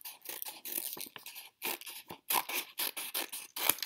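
Scissors snip through folded paper while a shape is cut out, a rapid series of close, crisp cuts with brief pauses between strokes, no voices.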